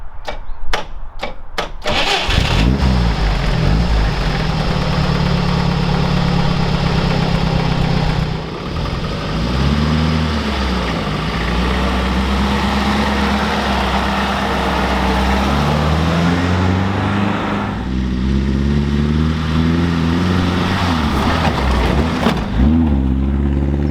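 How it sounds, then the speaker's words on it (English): A home-built off-road vehicle engine cranks and fires up after a few sharp clicks, then settles into a steady, loud running drone as it drives, rising and falling with throttle throughout. "let's fire this thing up and take it for a spin."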